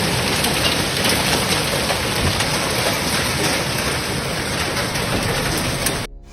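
Heavy rain pours down steadily in Lawton, Oklahoma, a dense, loud, continuous roar of falling water that cuts off abruptly at the end.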